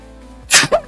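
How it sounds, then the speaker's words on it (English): One person sneezes sharply and up close after a brief inhale, followed by a short breathy after-sound, alone with no other talk. "I also have to sneeze."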